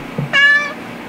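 A single short, close cat meow rises and falls, alone in a quiet room with faint background noise.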